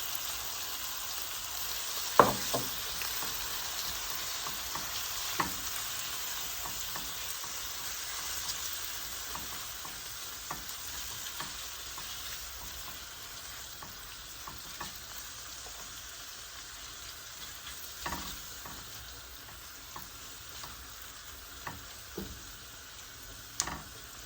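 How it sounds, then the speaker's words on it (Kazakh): Chicken breast fries with onions in a pan, a steady soft sizzle and hiss with occasional scrapes and taps of a utensil stirring, close and without voices. "жуамызды қуырып аздап өлтіріп алған соң, үстіне жаңағы тауық етінің төс етін саламыз"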